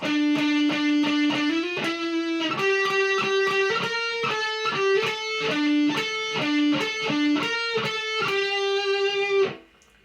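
A distorted electric guitar plays a fast melodic solo line of picked notes climbing and settling, ending on a held note that rings before cutting off.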